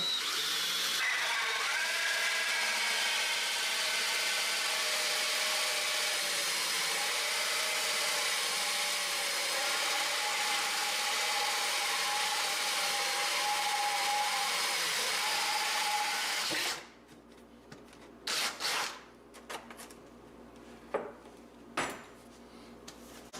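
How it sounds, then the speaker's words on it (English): A power drill whines continuously and loudly for a long stretch while drilling heater vent holes in a Polaris Ranger cab, then stops, followed by a few scattered clunks and knocks. "I'll drill the other 3 out and we'll be done with this one."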